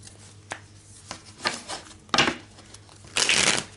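A deck of tarot cards is shuffled by hand in several short bursts of riffling and sliding, close and crisp, with quiet gaps between and a faint low hum.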